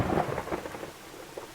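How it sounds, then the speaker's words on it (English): Steady light rain falling, a soft continuous patter under a low distant rumble, with no voices. "A light drizzle fell over the decaying rooftops of Black Hollow."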